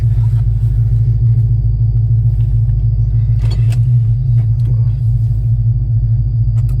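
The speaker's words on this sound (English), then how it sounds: "Shut it off because this car is pretty loud." A deep, loud Dodge Charger R/T engine idles with a steady low rumble throughout, with a few brief clicks and knocks over it.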